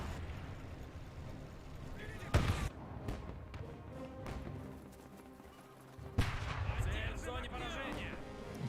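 A 57mm gun fires at a bridge in the World War II game Men of War II, giving two sharp, loud blasts a few seconds apart over low battlefield rumble, with someone talking during the clip.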